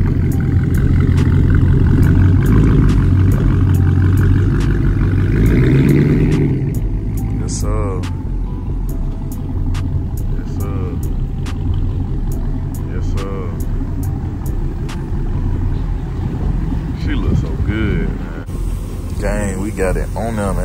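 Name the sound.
2012 Dodge Charger SRT8 engine revving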